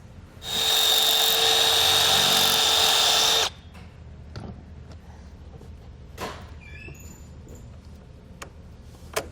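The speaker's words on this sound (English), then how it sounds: "grab a drill bit and very carefully enlarge this hole just a little bit" A power drill enlarging a hole in a 2019 Ford Explorer whines loudly in one steady burst of about three seconds, then stops, leaving faint clicks and light taps.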